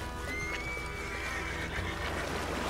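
An agitated horse in Red Dead Redemption 2 neighs with a long, rising and falling whinny over steady game ambience, with hooves faintly clopping in the background.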